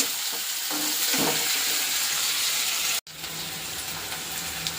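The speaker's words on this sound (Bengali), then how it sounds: "একটু ভাজা করে নিই একটু ভালো করে।" Onions frying in a pan make a continuous, fairly loud sizzle that cuts out for an instant near the middle and then resumes steadily.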